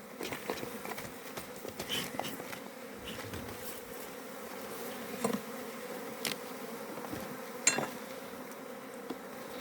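A dense swarm of honeybees drones steadily close by at a hive, with occasional sharper clicks and knocks mixed into the buzzing.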